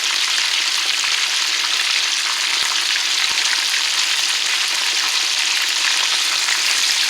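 Chicken drumettes fry in hot oil with a loud, continuous sizzle and crackle, dense and steady throughout with a few soft pops and no talking.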